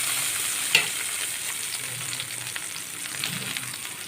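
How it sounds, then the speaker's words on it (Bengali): Onions fry in oil in a wok, giving a steady close sizzle with a sharp clink of stirring near the start and scraping stirs later. "এই কড়ায় আরেকটু তেল দিয়ে আমি পেঁয়াজটা ভাজতে দিয়ে দেবো।"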